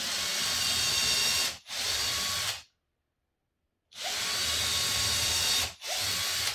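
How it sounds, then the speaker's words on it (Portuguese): A power drill boring two pilot holes for screws into a wooden coffee-filter stand: two loud, steady whirring bursts near the mic, each briefly dipping mid-run, separated by a second of silence. "Vou fazer 2 furos agora, pré-furo por conta do parafuso."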